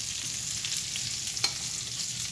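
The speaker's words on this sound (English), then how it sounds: "I'm gonna put my onions in here, saute them down with my mushrooms" Onions and mushrooms sautéing in a pan, a steady close sizzle with a brief stir or scrape partway through, no voices.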